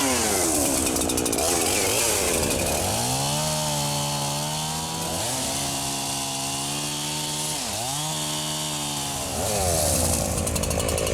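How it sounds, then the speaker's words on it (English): A chainsaw runs loudly nearby, its engine revving up and settling into a steady buzz, dipping and rising again several times while cutting. "this is why we always bring a chainsaw"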